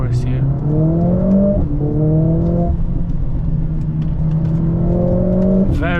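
A Mercedes-Benz CLA45S AMG with a four-cylinder engine revs up repeatedly through rising gear pulls and short shift breaks, close and loud, while driving through a forest with a driver talking over it.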